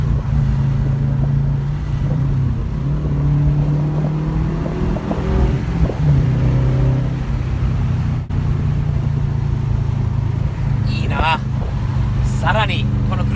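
Subaru STI tuned with a Cobb Access Port drones steadily from inside the cabin while driving, its engine note rising and falling, and someone talks over the engine.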